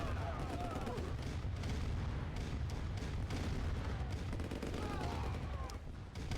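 Dense, rumbling cannon fire and explosions from a tank battle in Command & Conquer: Red Alert Remastered, a steady barrage of booms and blasts layered over one another throughout.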